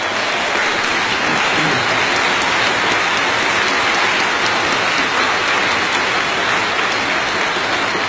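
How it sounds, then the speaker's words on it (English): Enormous applause for pan flute player George Zamfir, a dense, loud, continuous clapping from a large audience sustained evenly without pause. "Give him an enormous applause, the one and only George Zamfir!"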